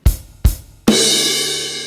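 Two punchy bass drum hits are followed by a loud snare and crash struck together, the cymbal washing out and sustaining, a drum kit fill from a beat played alone.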